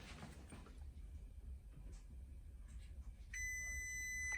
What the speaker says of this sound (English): Oh guys, that's our oven timer.